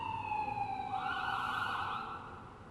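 An emergency vehicle siren passing outside, a wailing tone that rises and sweeps at a distance, fairly faint, then fades away.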